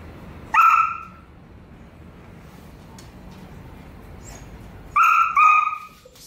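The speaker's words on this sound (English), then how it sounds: "Barking that he's doing is all just attention barking" A dog attention-barks three times, one sharp bark, a pause, then two quick barks in a row, loud and close.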